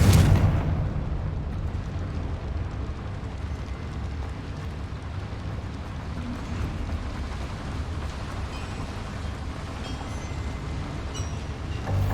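Explosive Confringo spell blasts in the video game Hogwarts Legacy: a loud, dense rumbling roar with a sharp onset that carries on steadily for the full stretch, with no voices heard.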